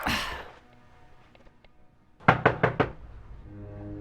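Four firm knocks on a door sound in quick succession, fairly close and loud against an otherwise quiet interior.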